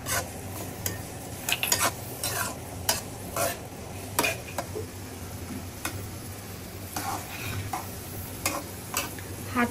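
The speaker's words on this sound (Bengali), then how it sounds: "এখন হচ্ছে একটু বাগার দিব, পেঁয়াজ আর রসুন ভেজে দিব" Onion and garlic frying in oil as a tempering for a large pot of nehari, with soft sizzling and repeated sharp clicks and scrapes of a spoon stirring against the pan.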